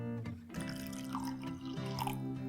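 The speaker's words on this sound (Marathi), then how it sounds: "यामध्ये आपण पाणी टाकलं," Water is poured into slightly sour yogurt in a bowl for Khandeshi kadhi, giving a soft, steady trickle and drip heard close-up under background music.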